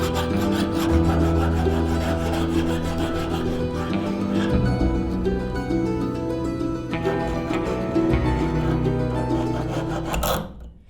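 A hand file rasps steadily across a copper dagger blade, a continuous close grinding that runs for several seconds and then stops abruptly.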